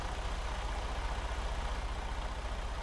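A Western Star 5700XE truck engine idles in the video game American Truck Simulator with a steady, low, throbbing rumble, continuous and close, with no talking.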